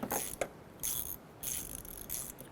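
A ratchet with a 19mm deep socket threads in a replacement air intake temperature sensor on a 1994–2004 Chevrolet S-10, giving several bursts of rapid metallic clicking separated by short pauses, close and clear with no voices.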